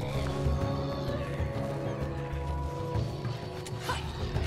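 A horse in the video game God of War Ragnarök whinnies and neighs with clip-clopping hooves over a dense, continuous game soundtrack, loud and close throughout.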